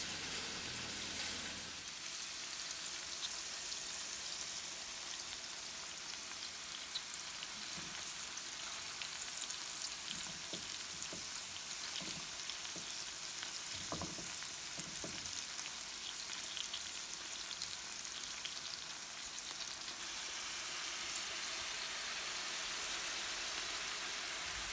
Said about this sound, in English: Just going to start flipping them now because I can see they're pink on the other side.